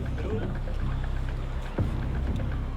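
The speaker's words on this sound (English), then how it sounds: "A tugboat pulls the U-35 away from the pier out to sea" A tugboat pulling the U-35 submarine away from a pier out to sea gives a low, steady engine rumble with water wash, a brief louder thump partway through.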